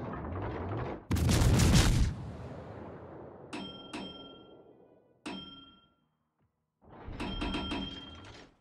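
Ship guns fire in a naval video game: a huge booming salvo, then several sharp cracking reports with metallic ringing tails, brief silence, and another rumbling volley, all loud and echoing without any talk.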